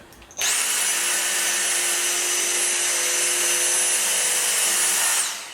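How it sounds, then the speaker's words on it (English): A Dyson vacuum cleaner fitted with a new head switches on and runs with a steady, loud high-pitched whine and rushing suction for about five seconds, then cuts off abruptly. "I just changed the head on my Dyson, and clearly I was using the wrong one this whole time. Look at the way this one suctions."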